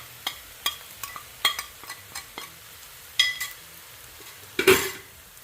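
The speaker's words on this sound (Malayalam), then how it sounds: "ഇനി നമുക്കതിലേക്ക് നമ്മൾ നേരത്തെ ചതച്ച് വെച്ചിരുന്ന ഉണക്കമുളക് അത് ഫുള്ള് നമുക്കതിലേക്ക് ഇട്ട് കൊടുക്കാം" Crushed dried chillies hitting a hot pan with a burst of sizzling near the end, preceded by a series of sharp utensil taps and stirring clicks against the pan.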